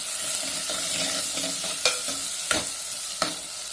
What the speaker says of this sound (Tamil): இப்போ தக்காளி போட போகிறோம். தக்காளி வெங்காயம் இன்னும் நல்லாவே வதங்கிடும்.